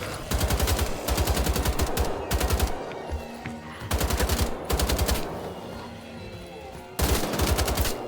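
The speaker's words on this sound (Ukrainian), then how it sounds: "У нього автомат." Automatic gunfire in the video game Wolfenstein: The Old Blood, several loud rapid bursts of machine-gun fire with short gaps of quieter game sound between them, close and dominant throughout.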